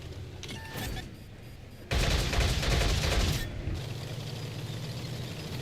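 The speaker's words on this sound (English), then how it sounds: "This autocannon empties its magazine so quickly." A tank autocannon in World of Tanks fires a rapid burst that empties its magazine, a dense roaring volley of shots lasting under two seconds, followed by a lingering mechanical rumble.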